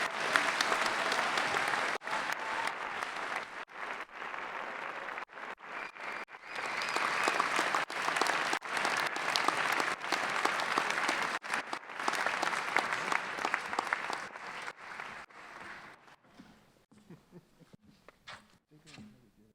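A commencement crowd at the University of Iowa Graduate College claps and cheers for master's degree graduates, loud continuous applause with several brief dips, fading toward the end.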